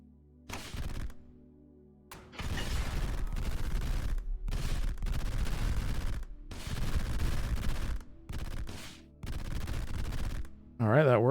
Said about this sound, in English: swarm rockets